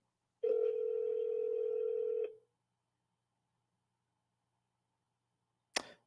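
A telephone dial tone holds steady for about two seconds, then cuts off and leaves a long silence, followed near the end by a short sharp click.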